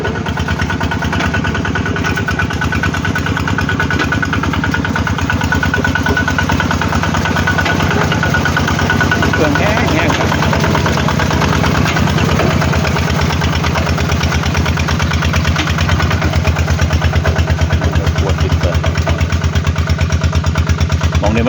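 A red farm tractor engine chugs steadily nearby in a rice paddy with a rattling, uneven mechanical clatter throughout, alone without talk.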